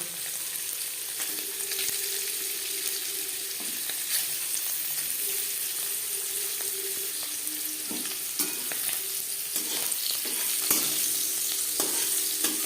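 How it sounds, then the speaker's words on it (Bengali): Paneer fries lightly in a pan for a vegetarian navratan korma, giving a steady, close sizzle with intermittent spatula scrapes and stirring clatter throughout. "নবরত্নের কোরমা তৈরি করার জন্য সবার প্রথমে আমি পনির হালকা করে ভেজে নেব।"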